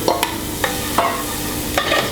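Stirring and a light sizzle of shallots sweating in a small saucepan, with a few distinct scraping strokes over a low, steady frying hiss, close up, with no talk.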